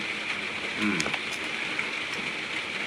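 Steady rain falls outdoors as a constant broad hiss, with brief faint knocks and a short voice-like sound partway through.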